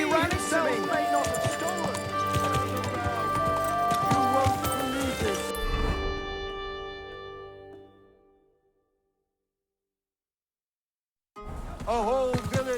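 Horse hooves clop along in the medieval role-playing game Kingdom Come: Deliverance II, a steady close rhythm under game music and voices, fading out to silence midway before sound returns near the end.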